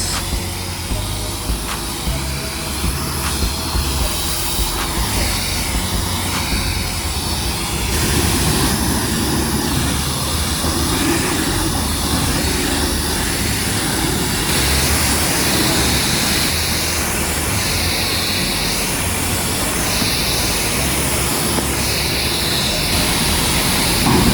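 Water sprays steadily over a dirty Range Rover during a rinse, a loud, continuous close rush of spray that shifts slightly in tone as the stream moves across the body, with no voices.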